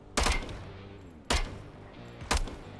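Three loud, single rifle shots in a VR military sim game, fired about a second apart, each a sharp crack with a short decaying tail.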